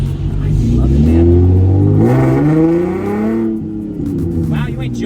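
Modified Datsun 521 pickup truck engine revving hard as it accelerates, a loud, close, rising engine roar heard from inside the cab, climbing in pitch, with people talking over it.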